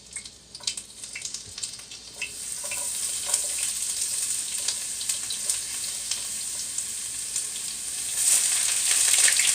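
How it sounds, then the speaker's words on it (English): Onions sizzle and crackle in hot grease in a pan for breakfast, a steady close frying hiss that grows louder toward the end, with small pops and scraping stirs and no talking. "you're going to hear them fry"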